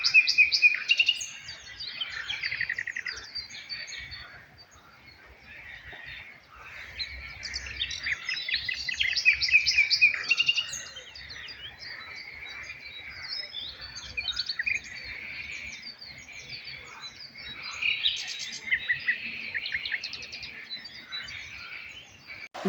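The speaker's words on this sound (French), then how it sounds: "Le chant des oiseaux" Small birds sing on the banks of the Loire, a steady stream of bright chirps and trills overlapping throughout, moderately distant, with a faint low rumble beneath and no voices.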